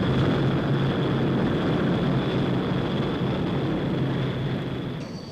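An HS-125 business jet passes with a loud, steady broadband roar and a sustained high whine, fading slightly at the end.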